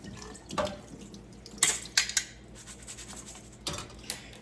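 Rice rinsed in water in a home kitchen: a few short splashes and swishes with clinks of grains and pot, brief bursts separated by quiet, close by and with no voices.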